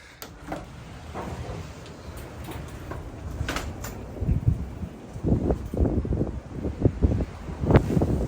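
Gusty wind buffets the microphone in uneven bursts, growing stronger toward the end, with faint rustling and occasional knocks.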